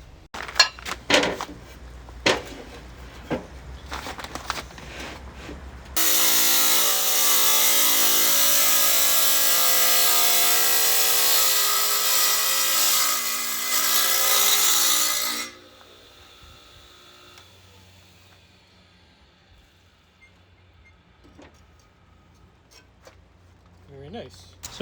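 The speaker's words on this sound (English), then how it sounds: "So we'll just do that on the tile saw." A tile saw slices tiles into strips, a loud steady high-pitched whine for about nine seconds that starts and stops abruptly, with clatter and handling noise before it and quieter sounds after.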